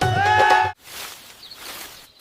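Cartoon goat bleating on a farm: a single strong, wavering bleat that cuts off sharply, followed by fainter, softer animal sounds.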